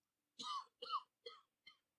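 Four short, close coughs in quick succession, each a little weaker than the last, with silence around them.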